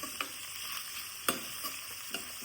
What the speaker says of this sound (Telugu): ఈ ఉల్లిపాయ ముక్కల్ని ఒక ఐదు నిమిషాలు నూనెలో మగ్గనివ్వాలి